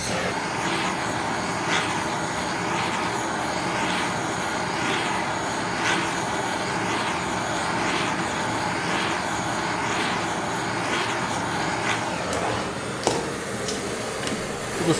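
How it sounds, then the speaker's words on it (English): A torch heats the wheel hub of a Yamaha YZ250 dirt bike with a loud, continuous roaring hiss held close by, steady for the whole stretch with a few faint clinks near the end. "We just need to heat up the hub with a torch so they come out a little easier."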